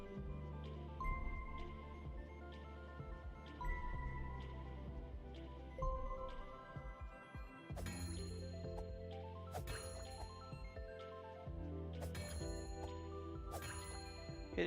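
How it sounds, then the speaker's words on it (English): A bell is struck repeatedly inside the video game Tunic, with several bright metallic dings ringing out over a steady tonal game-music bed. The dings fall at irregular intervals during the second half. "Hitting this bell resets your color."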